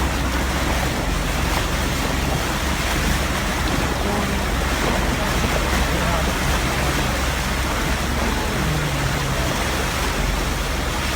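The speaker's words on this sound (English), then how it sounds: "They driving through ice water" Vehicles plow through icy flood water, producing a dense, continuous wash of splashing and rushing water that stays loud and steady from start to finish, like heavy surf, with no voices over it.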